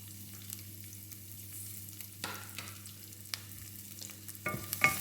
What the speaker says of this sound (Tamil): நான் இந்த நல்லெண்ணெய்க்கில் வந்து உள்ளியை போடுறேன் அடுத்தது பார்த்திங்கன்னு சொன்னால் இஞ்சியை போடுறேன்